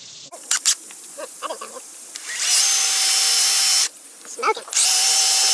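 A power drill bores holes into a wall to mount a kayak rack, loud bursts of high whine running steadily for a second or more at a time, separated by short pauses with faint handling noise.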